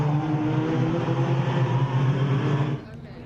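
Race cars at a national extreme festival meeting braking into turn 5, a loud sustained multi-car engine drone with steady harmonics that cuts off sharply near the end, heard under commentary.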